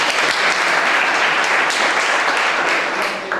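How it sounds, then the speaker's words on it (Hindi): An audience at an indoor programme breaks into loud, dense applause that holds steady throughout. "तो आप इसके लिए ताली बजाइए मेरे लिए"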